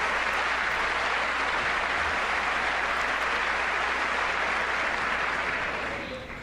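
Sustained loud applause from a large chamber audience at a State of the Union address, dense steady clapping filling the whole stretch without a break before easing slightly at the end.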